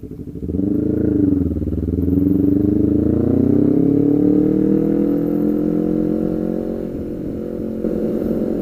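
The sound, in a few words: Kawasaki Ninja motorcycle riding close behind on the road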